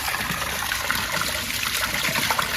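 Water gushing from a pipe where the tap has been pulled off: a continuous, loud, hissing splash that stays steady throughout, with no one talking.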